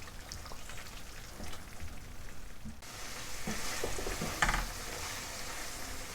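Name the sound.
prawn karahi masala with fenugreek cooking in a pan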